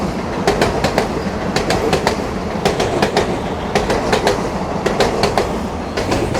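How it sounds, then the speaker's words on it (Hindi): The Parshuram Express, running from Mangalore to Trivandrum, passes close alongside a moving train, its wheels making loud, rhythmic clickety-clack beats over a heavy rumble. "अभी बगल से आ रही है परशुराम एक्सप्रेस, इसको स्किप करना है।"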